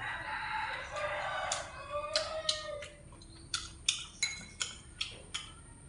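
Chickens and a rooster nearby, a drawn-out crow fading early on followed by a run of short sharp clucks at a steady rhythm, moderately close and alone.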